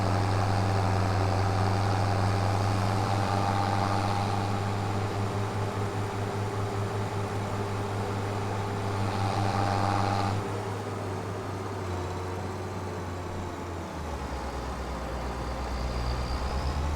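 A tractor engine runs in Farming Simulator 25, a steady low idling drone with a mechanical hum, loud and continuous, shifting to a slightly different tone near the end.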